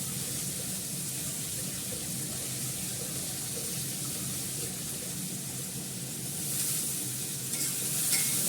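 Coriander leaves and green chillies fry in a wok over a low gas flame, a soft, even sizzle with faint stirring that grows slightly louder toward the end.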